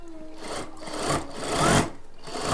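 Sewing machine running small tight stitches on a simple blouse, a fast rhythmic whirring chatter close by that rises and eases in short bursts.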